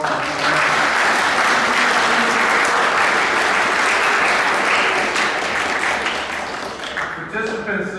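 Loud, sustained applause and cheering fill a high school fall sports assembly for the girls' golf team, then taper off near the end.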